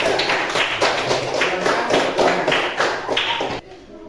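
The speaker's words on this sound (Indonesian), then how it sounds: "kasih tepuk tangan buat kelompok 3" A classroom of students claps for a group in rhythmic, patterned bursts, several hands beating together in a repeating cadence for about three and a half seconds before stopping abruptly into quiet room noise.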